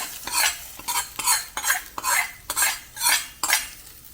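A spoon stirs moringa leaf thampuli curry in a pot, with regular scraping strokes against the metal repeating roughly every half second, close and clear with no talking.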